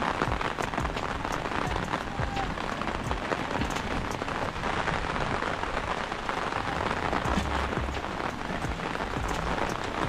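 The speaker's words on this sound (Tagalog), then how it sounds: "Lumakas na ang buhos ng ulan." Heavy rain pours steadily onto surfaces, a dense, continuous hiss and patter that stays loud and unbroken throughout.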